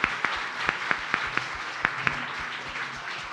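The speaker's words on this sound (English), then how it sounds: "round of applause for Jason." A small group claps and applauds steadily, the individual claps audible, fairly close and moderately loud.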